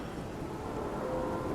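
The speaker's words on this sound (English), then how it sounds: "The storm outside roars, and the hull groans and screams under the strain" Steady heavy rain with a deep rumbling thunderstorm roar, a dense continuous wash of sound without any voices.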